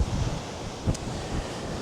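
Wind gusts across an exposed hilltop escarpment at Coaley Peak near Stroud, Gloucestershire, on a cold, showery day, a steady broadband rush with a brief stronger gust near the middle and no talk.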